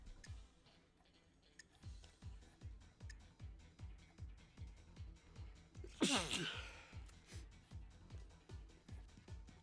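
A single sharp sneeze bursts out midway, loud and close, over a steady rhythmic ticking that runs through the whole stretch.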